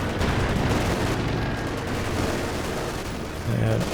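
Panther tank machine guns rattling in a Company of Heroes 2 one-versus-one match, a dense, continuous burst of gunfire and battle noise that fills the whole stretch loudly with no pause.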